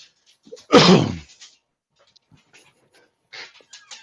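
A dog nearby lets out a short, breathy whimper followed by quiet panting and faint snuffling, with long silent gaps between the sounds.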